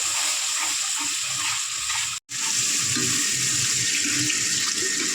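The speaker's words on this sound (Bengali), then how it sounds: "এই মিক্সি ধরার জলটা দিয়ে দিলাম, দিয়ে মশলাটা ভালো করে কষিয়ে নেবো" Water used to rinse a mixer grinder is poured into spice masala frying in a pan while making egg chops: a loud, steady rushing pour over sizzling that breaks off for an instant midway and then resumes.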